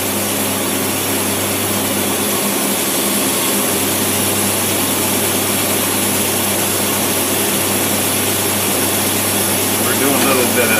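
A car engine fitted with tri-power carburetors, one of them bad, idles at about 800 rpm, a loud, steady, even drone with a low hum underneath that holds unchanged throughout.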